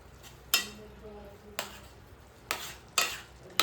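Spoon scraping and clinking as drumstick and grape pickle is mixed in a pot, with several sharp separate strokes against a quiet background.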